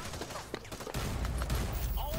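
Gunfire in the online shooter Hyper Scape, a dense burst of shots running steadily through the second half after a quieter start, with a player's voice talking faintly over the game noise.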